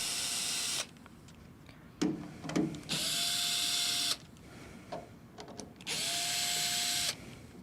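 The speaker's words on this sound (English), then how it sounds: "We're going to take our 5/16 bit here and then we're going to loosen the hose clamps." A power drill fitted with a 5/16 bit loosens hose clamps during cabinet maintenance, with three loud whirring bursts of about a second each, separated by quieter gaps holding faint clicks and handling noises.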